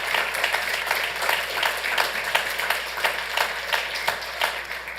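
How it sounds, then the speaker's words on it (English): Round of applause in a city council chamber in Santa Ana, steady sustained clapping from a modest crowd with distinct individual claps throughout, even in level. "That deserves a round of applause"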